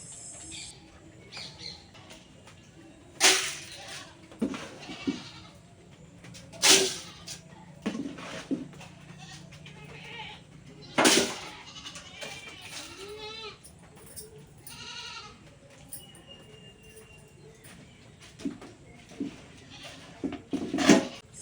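Goats bleat in bursts on a farm on a rainy day, with several wavering calls rising clearly over a low, steady background.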